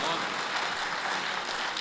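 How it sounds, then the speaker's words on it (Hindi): Applause from the audience at a mushaira, a poetry gathering, welcomes a poet, a dense, even wash of clapping that holds steady and loud through the short stretch. "जोरदार तालियों से इस्तकबाल"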